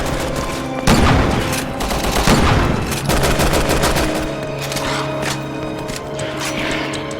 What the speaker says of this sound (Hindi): ग्रेनेड फेंका है मैंने यहाँ पे